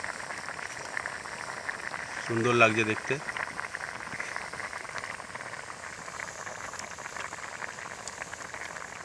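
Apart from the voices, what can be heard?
mushroom chicken gravy boiling in pot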